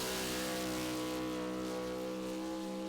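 A 1991 Chevy pulling truck from Kansas revs hard on a dirt pulling track, its engine roaring loud, close and steady with dense harmonic drone throughout.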